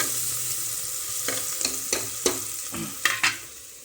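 Chicken for curry sizzles in a pan in a home kitchen, a steady close frying hiss broken by a few scraping stirs of a spoon against the pan, with no voices.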